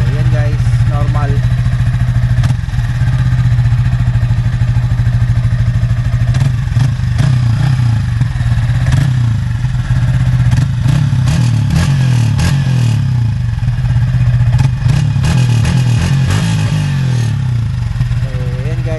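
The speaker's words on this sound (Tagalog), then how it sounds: "So, yan guys, yan yung normal na tunog ng UMA pipe. Yan yung idle niya." A Yamaha Sniper 155R motorcycle fitted with a UMA exhaust pipe idles loudly and steadily with a deep, constant rumble, while a person talks over it.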